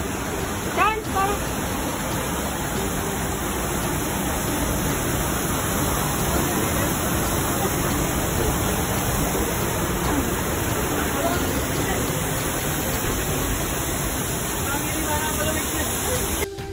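Constant dense rushing of water at Tago Falls in Porac, Pampanga, a steady broadband roar like heavy spray, with faint voices and background chatter mixed into the wash.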